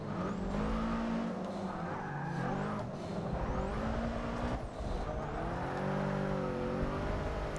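Race cars in Forza Motorsport 6 roar past with engines revving and shifting pitch, tires squealing, loud and continuous throughout.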